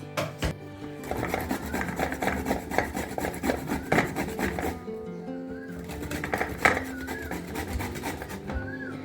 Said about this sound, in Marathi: अशा कच्चा भोपळा म्हणजे किसून भोपळा घ्यायचा, कच्चाच घ्यायचा आणि मग त्याच्यातच पीठ मळायचं